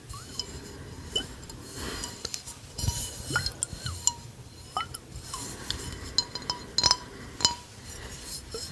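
Fingertips tap and clink on a Calvin Klein cologne bottle made of glass, giving light, irregular bright ticks with occasional sharper hits, close-miked yet quiet against a soft hiss.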